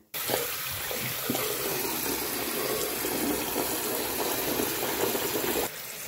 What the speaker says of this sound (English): use hand soap to wash the dirty surgical mask